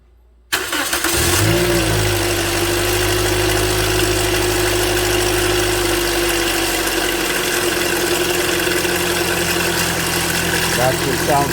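A 2009 Toyota Corolla 1.8 engine with a rattle cranks and fires, then settles into a steady, close idle with a constant hum and an underlying mechanical rattle running throughout, with no talking.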